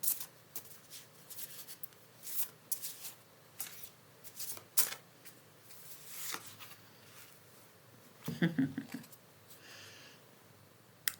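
Cards are shuffled and drawn by hand during a quiet tarot-style reading, soft riffles, flicks and slides at close range, faint and intermittent with small rustles between, no talk.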